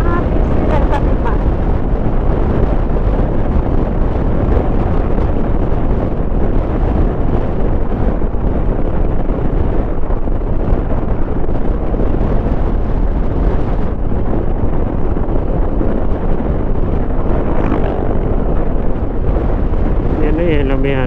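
Heavy wind buffets the microphone continuously at Kamay ni Jesus in Lucban, Quezon, a loud low roar with rumbling gusts throughout, and faint voices occasionally underneath.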